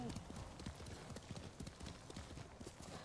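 Horse hooves in the video game Ghost of Tsushima beat a steady clip-clop gallop, close and continuous throughout.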